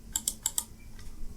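Four quick, sharp keystrokes on a computer keyboard, close and distinct, followed by a quiet room with no voices.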